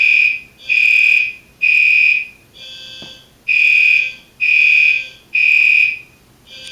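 A building fire alarm system under test, sounding loudly from a room on the opposite side of the house, blares in six repeated long tones of about a second each, separated by short gaps.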